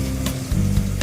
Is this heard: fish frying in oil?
yes